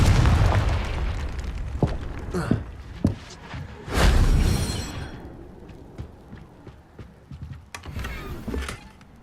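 A Confringo fire spell from the Hogwarts Legacy video game bursts in a loud blast near the four-second mark, amid other booms, pops and impacts from game combat, with a few lighter bangs trailing off afterward.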